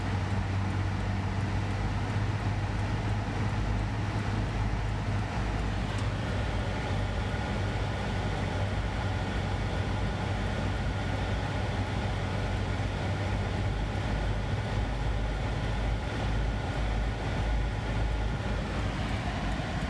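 A 2004 Ford Explorer with a defective alternator idles up, its engine held steady at about 2,000 RPM, giving a continuous, even droning rumble with a strong low hum and no voices over it.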